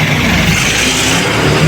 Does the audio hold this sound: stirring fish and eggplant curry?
no